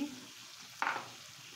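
A blended paste of green chilli, onion, garlic, ginger and cumin hits a hot pan, bursting into a short, sharp sizzle that then settles into a quieter hiss.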